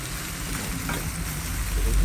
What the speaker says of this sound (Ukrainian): Підсмажимо трошки цибулю і будемо давати морку.